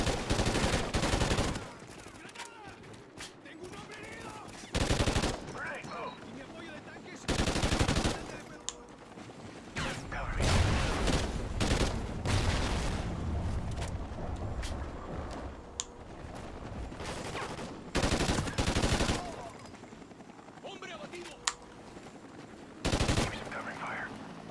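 Gunfire in the video game Call of Duty: Ghosts, with loud bursts of automatic weapon fire breaking out repeatedly between quieter stretches of combat noise and occasional voices.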